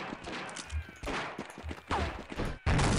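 Rapid bursts of gunfire from the video game Half-Life mod Wanted!, a western shooter, several volleys in quick succession, loud and close with a dense crackling texture.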